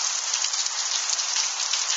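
Heavy rain from a strong multicell thunderstorm in Tour-en-Sologne, France, pours down as a dense, even hiss close by, with no breaks and no thunder heard.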